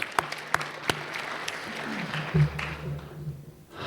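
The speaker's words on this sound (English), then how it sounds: "So please give them a round of applause." An audience at a hall of fame induction ceremony claps in a scattered burst, a few sharp near claps, then fading out toward the end.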